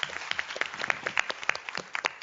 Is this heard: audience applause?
yes